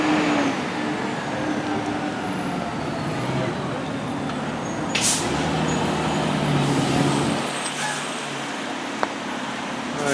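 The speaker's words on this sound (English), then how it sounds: "Well, I got the big truck, the hook and ladder and everything." A big hook and ladder fire truck on a neighborhood street in Santa Rosa, its engine rumbling steadily over traffic noise, with a brief air-brake hiss midway and a voice talking nearby.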